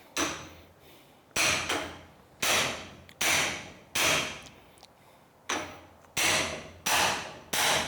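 A hammer strikes a front suspension part on a 1934 Ford coupe during mock-up assembly, eight sharp close metallic blows at irregular intervals, each ringing briefly before the next.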